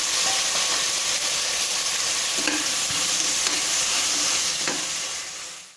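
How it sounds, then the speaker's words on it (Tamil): Tomatoes with ginger, garlic, mint and coriander leaves sizzle steadily as they sauté in a pan, a loud continuous frying hiss with occasional soft stirring knocks. "இப்போ தக்காளியும் போட்டுட்டு நல்லா வதக்கிக்கணும்"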